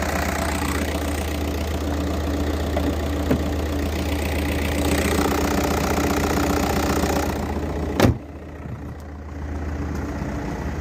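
A 2006 VW Golf Plus 1.9 TDI 77 kW diesel engine idling steadily and smoothly, with a close, even clatter that continues throughout and a brief knock or thump near the end.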